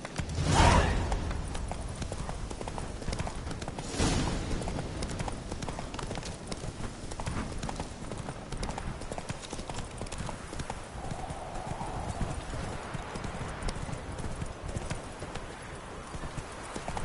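A horse gallops in The Witcher 3 video game, hooves clip-clopping in a fast, continuous rhythm close by, with an occasional whoosh of motion and no clear talk.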